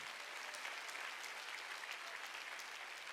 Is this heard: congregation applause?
yes